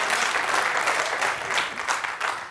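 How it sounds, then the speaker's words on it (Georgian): Studio audience applauding a contestant on a Georgian comedy game show, a steady, dense burst of clapping that holds at an even level for the whole stretch. "აპლოდისმენტები არ არის საკმარის."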